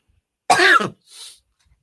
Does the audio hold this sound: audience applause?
no